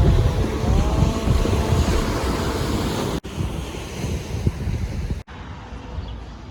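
Evening surf on a beach in Kemer, with a steady roar of waves mixed with heavy wind buffeting the microphone and cut by two brief dropouts.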